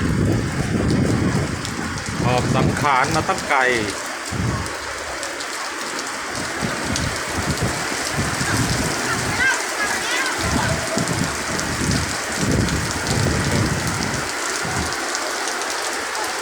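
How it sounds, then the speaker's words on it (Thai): Steady heavy rain patters down on surfaces nearby at an outdoor concert venue in Thailand, loud and continuous, while a person speaks briefly at the start over it. "ฝนมาตกซะอีก"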